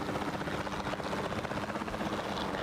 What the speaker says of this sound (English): Can I land the helicopter?